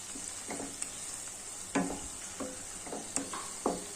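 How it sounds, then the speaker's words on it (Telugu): Onions frying in a pan over a low flame, giving a soft continuous sizzle with several brief louder scrapes and stirs at irregular moments, close by and with no one speaking. "చూడండి ఇట్లా బాగా వేయించుకోండి సన్న ఫ్లేమ్ చిన్నగా పెట్టుకోండి ఉల్లిగడ్డ అనేది మెత్తగా ఉడకాలి"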